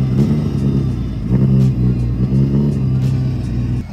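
Engine rumble from a Chevrolet Cobalt and a Saab being driven up onto a truck, low and close, swelling in short revving pushes and easing off between them.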